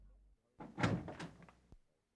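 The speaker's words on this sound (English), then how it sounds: "Holmes got up and opened the door." A door is pulled open indoors in one brief, muffled movement lasting about a second, ending in a soft knock as it settles, with a faint voice-like murmur at the start.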